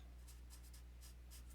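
Pen or pencil writing on a piece of paper during a statistics lesson, faint scratchy strokes in short bursts over a steady low background hum, with no voice.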